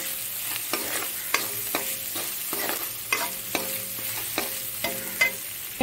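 Salt, turmeric and chili powder fry in a pan with a steady close sizzle, broken by repeated scraping strokes of a spoon stirring at an irregular rhythm; no voices.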